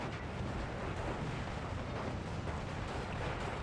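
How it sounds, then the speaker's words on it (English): Nebelwerfer rocket artillery fires in the WWII strategy game Steel Division 2, a dense continuous rumble of blasts and roaring launches that holds at an even, heavy level throughout, with no voices. "He's got a Nebelwerfer out, which is going to be firing in this area, causing all kinds of havoc"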